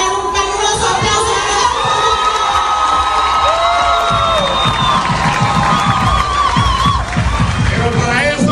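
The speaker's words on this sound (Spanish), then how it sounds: "Y aquí le vamos a dar un caluroso aplauso" A crowd cheers and shouts loudly at an event honoring local authorities in Atlántida, with high children's voices and whoops over a rhythmic stream of clapping.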